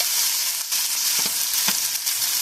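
Potatoes and half an onion hit hot avocado oil in a skillet, giving off a steady, bright sizzle with soft shifting and stirring crackles underneath.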